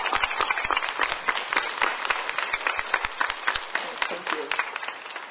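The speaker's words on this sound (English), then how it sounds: "let's have you applaud those who helped you achieve today." Crowd at a University of Hawaii commencement ceremony claps steadily and densely, a sustained wash of many hands applauding together with no break.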